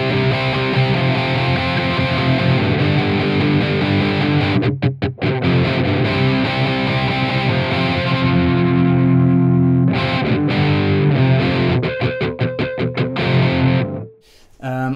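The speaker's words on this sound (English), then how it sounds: "But we add the tube screamer." Electric guitar played through an Amplitube Tube Screamer distortion plugin, heavily overdriven sustained chords with a few short choppy stops and a brief gap near the end.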